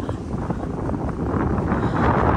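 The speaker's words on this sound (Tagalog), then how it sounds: "Malakas yung hangin." Strong, cold wind at a beach buffets the microphone with a steady, loud, close rumbling roar that builds slightly toward the end.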